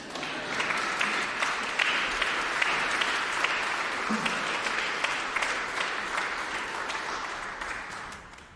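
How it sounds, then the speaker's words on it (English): Mourners at a memorial service applaud in a sustained, moderately loud wave of clapping with distinct individual claps standing out, holding steady before tapering off at the very end. "You can clap now if you want."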